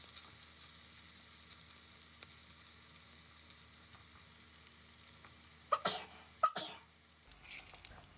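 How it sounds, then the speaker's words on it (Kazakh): Eggplant cutlets, made without meat, fry in a pan over medium heat with a soft, steady sizzle that stays quiet throughout, broken by a few louder bursts of spatter and clatter near the end. "Енді орташа отта котлеттерімізді пісіріп ала береміз."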